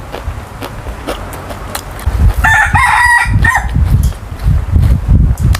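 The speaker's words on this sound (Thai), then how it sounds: "มันบ่ายสามแล้วไก่ยังขันเยอะ" A rooster crows loudly and close by in the afternoon, one long harmonic call lasting a couple of seconds, with other fowl clucking and low rustling and footsteps around it outdoors.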